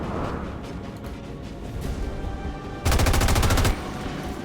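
A single heavy shot is fired at a mech in a video game, a loud, dense blast that holds for nearly a second over a quieter game background with no talk.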